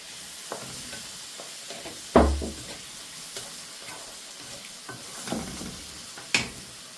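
Chopped small tomatoes, three or four of them, tipped into a hot frying pan, giving a soft sizzle with a sharp thump of food landing and occasional scraping stirs, close and fairly quiet.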